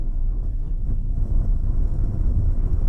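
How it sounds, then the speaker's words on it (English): Constant low roar of wind buffeting around the windshield of a Renault Arkana E-Tech Hybrid at 110, a steady rushing drone with no talking. "There's some wind noise around the windshield, which is normal at 110."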